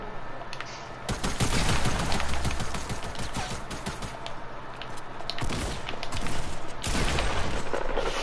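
Rapid bursts of video-game gunfire, automatic volleys crackling in clusters with brief pauses, loud and close throughout.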